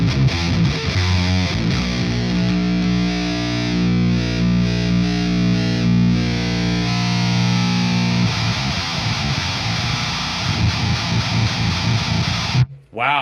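Electric guitar played through a Boss HM-2W Heavy Metal Waza Craft distortion pedal, giving a thick, buzzing, heavily saturated tone with sustained chords and chugging riffs, loud and steady before a sudden stop.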